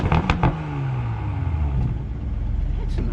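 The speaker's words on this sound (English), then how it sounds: "That sounds so freaking good for a 6-cylinder" A Toyota Supra six-cylinder engine revs nearby, with a few sharp pops at the start before settling into a rumbling, falling engine note; people talk over it.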